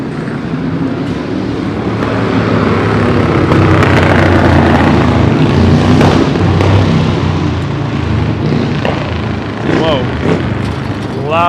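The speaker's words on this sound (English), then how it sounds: "Loud motorcycle." A loud motorcycle roars past on a busy Midtown Manhattan street near the Garment District and Times Square, its broad engine rumble swelling and fading amid dense city traffic noise and nearby voices.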